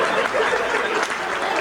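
An audience at a Hindi comedy poetry gathering breaks into steady applause, dense clapping with a few chuckles mixed in, briefly and moderately loud.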